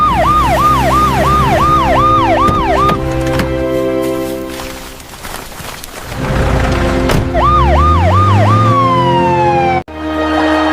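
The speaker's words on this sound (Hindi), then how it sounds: "एम्बुलेंस!" Loud ambulance siren wailing in rapid repeated rising-falling sweeps over a steady horn tone, dropping away midway then returning close with the same wail before cutting off abruptly near the end.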